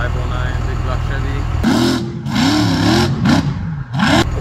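A 509 big block Chevy engine in a 2006 Ford Ranger revs in deep throaty surges that rise and fall several times, loud and close, after a steady rumbling idle, with people talking nearby.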